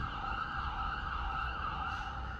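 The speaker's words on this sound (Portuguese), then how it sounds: "o som da ambulância" An ambulance siren sounds continuously outside a hospital, a steady wailing tone held at a fairly distant, moderate level with no pauses.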